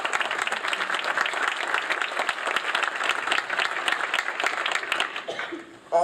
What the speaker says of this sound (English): let's give a round of applause to Adrienne and her team for such an outstanding program